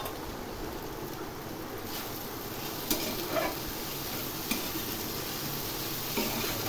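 Mixed vegetables and onion frying on a tawa, a quiet continuous sizzle broken by a few sharp clicks of stirring, close and fairly faint, with no talk.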